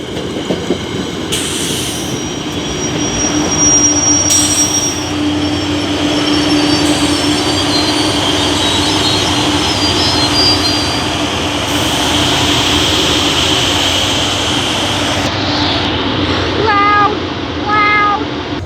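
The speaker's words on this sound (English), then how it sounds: "Okay, I think that this train is departing." A train at Point Pleasant Beach station rumbles past loudly and close, with high wheel squeals rising over the steady roar and a warning bell chiming near the end.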